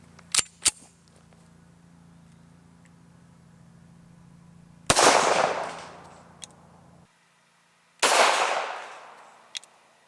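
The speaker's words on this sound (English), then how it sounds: "let's shoot the 45 ACP out of the 1911" Two loud, sharp gunshots from a 1911 pistol firing .45 ACP ring out a few seconds apart, each trailing off in a decaying echo, with faint clicks of handling before them.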